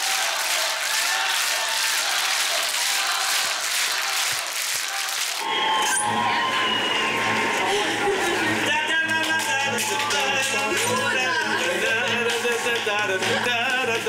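A television talent-show audience applauds in a broad, steady roar that shifts midway as music swells in under it, sustained and loud from start to finish.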